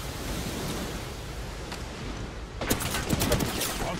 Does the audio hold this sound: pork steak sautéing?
no